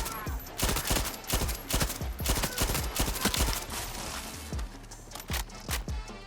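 The Hi-Fi, a modified SSG-P58 rifle firing explosive rounds in Far Cry 6, sounds off in a rapid fusillade of sharp, loud shots and blasts, roughly evenly spaced with brief pauses, amid the clatter of a close firefight.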